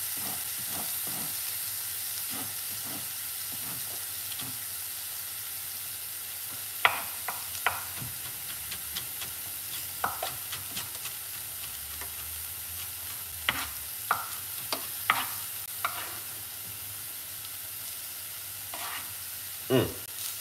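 Eggplant curry with sweet potatoes sizzles and fries in a pot under a steady hiss, while a spoon stirs it with scattered scraping knocks and a few louder clacks.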